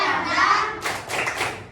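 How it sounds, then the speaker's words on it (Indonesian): A primary school class in Indonesia performs a rhythmic spirit clap, a short burst of several quick hand claps and thumps from many children in a classroom, heard close after a teacher's voice. "Oke, tepuk semangat"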